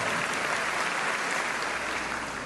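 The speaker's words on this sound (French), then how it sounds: "Un grand applaudissement, quelle joie." A congregation at a Bible study gathering breaks into warm applause to greet visiting members, a thick, continuous roar of clapping from many people, loud and unbroken throughout.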